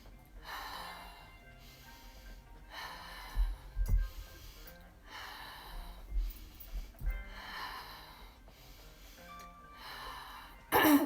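Deep Wim Hof method breathing: slow, regular cycles of loud airy inhales and sighing exhales through the mouth, about one breath every two seconds, close and intimate with small soft bumps between them.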